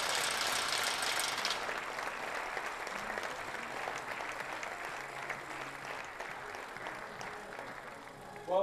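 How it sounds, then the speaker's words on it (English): Steady audience applause fills an arena after a finalist finishing eighth at the 2017 European Championships in Maribor is introduced, a dense even clatter of many hands that fades slightly toward the end. "give a warm round of applause for Italy's Alessandra Luciani."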